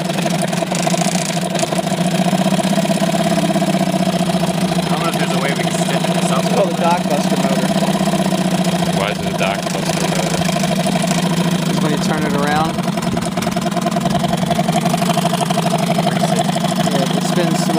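A 1972 Evinrude 4hp Lightwin twin-cylinder outboard motor running steadily after a cold start, a continuous buzzing idle with a slight knocking rhythm, loud and close throughout.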